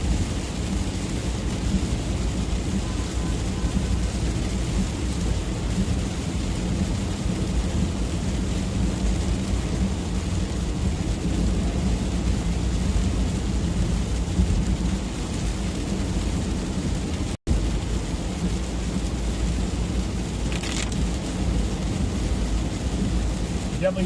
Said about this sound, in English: Definitely get tons of rain, Chris. Tons of rain.